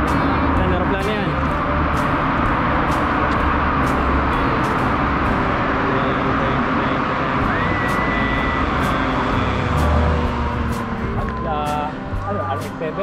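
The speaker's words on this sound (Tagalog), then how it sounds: "Paparating. Aeroplano yan, aeroplano." A fixed-wing airplane passes overhead near a dam, a broad engine roar that holds steady across the whole stretch while people talk excitedly over it.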